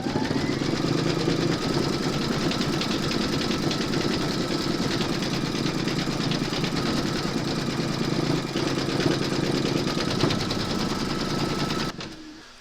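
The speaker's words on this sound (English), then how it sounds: "Pop your hoop into your machine and stitch round number 14 to secure it." A home embroidery machine stitches a securing round on a hooped fabric for in-the-hoop bunny slippers, a steady fast mechanical whir with rhythmic needle clatter running continuously before stopping abruptly near the end.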